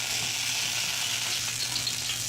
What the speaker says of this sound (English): we're going to put 2 tablespoons of olive oil on each of these pans